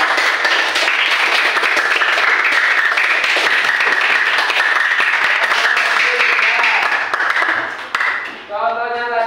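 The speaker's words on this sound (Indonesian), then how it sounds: "Beri tepuk tangan dulu, Pak." Loud, dense applause from a classroom group after a student discussion presentation, sustained for several seconds before fading; a brief voice is heard at the end.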